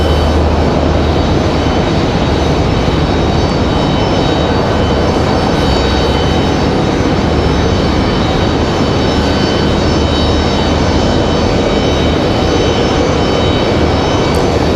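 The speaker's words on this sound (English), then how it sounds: "So we got an American out here on the end of the runway, ready to roll. It's like an A321." An American Airlines Airbus A321 jet holding at the end of a runway at Raleigh-Durham International Airport, its engines giving a steady, broad roar that stays loud and even throughout with no talk over it.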